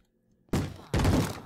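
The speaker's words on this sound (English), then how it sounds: "I hear a zombie banging against the door." A zombie banging on a wooden door in the Minecraft video game: two dull, heavy thuds after a quiet start, the second one longer and rattling.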